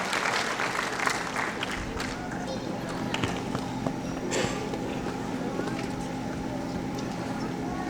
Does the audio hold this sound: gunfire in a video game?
no